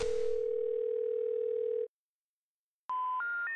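In the Thimbleweed Park video game, a loud steady telephone dial tone sounds, breaks into silence, then a quick run of stepped dialing tones follows, with no voices.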